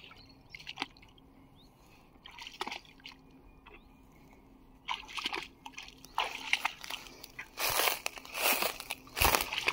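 A dog named Nagini and a person wading through water, starting with sparse drips and light sloshes, then building into louder, busier splashing and squelching steps in the second half, with no speech.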